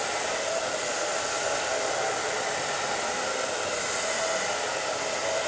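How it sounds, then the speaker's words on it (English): A hair blow dryer runs steadily on high heat at close range during a blow-dry styling session, a constant broadband whoosh with no break for the full stretch and no talking. "We're gonna go ahead and use the blow dryer."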